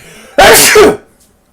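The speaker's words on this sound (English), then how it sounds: "I'm like, don't sneeze, don't sneeze. And then finally just let it ride." A single loud, explosive sneeze right up close, a sharp burst of breath that quickly fades into quiet.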